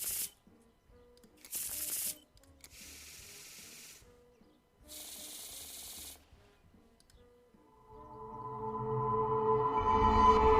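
Cards shuffled in the Martha is Dead video game: several quick riffling bursts, each a second or so long, set apart by brief pauses, followed by a rising swell of music toward the end.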